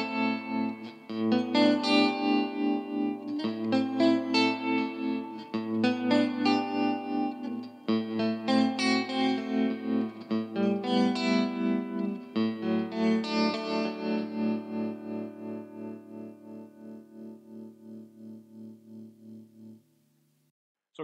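Electric guitar played through an Orange Tremlord amplifier with its tremolo set about halfway in speed and depth, chords pulsing in a steady rhythmic throb, loud and close, ringing out alone and fading at the end.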